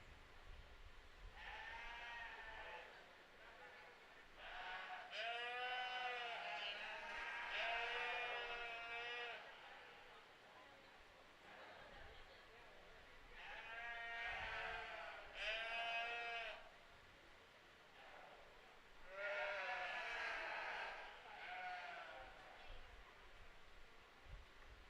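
Sheep at a county fair sheep show bleat in several drawn-out bursts, some close and loud, with quieter ambient noise between calls.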